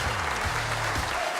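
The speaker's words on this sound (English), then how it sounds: "how about a big round of applause for the Gorilla?" Big round of applause from the crowd at a Phoenix Suns basketball game, honoring the team's gorilla mascot and cheerleaders; dense, steady clapping fills the whole short stretch at fairly close range.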